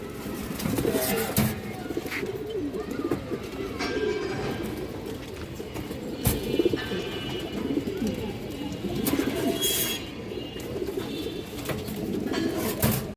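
Pigeons coo repeatedly at close range, including a high-quality male Baga Silver pigeon, soft rolling calls layered with rustling, occasional sharp knocks and background chatter.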